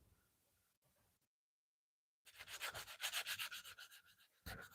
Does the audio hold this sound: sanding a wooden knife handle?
yes